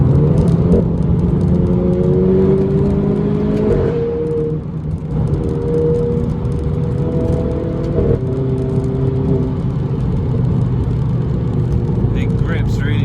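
Renault Clio RS engine pulling hard in race mode through a tunnel, a loud close drone with rising whine that climbs, drops and climbs again as gears change, with someone talking over it.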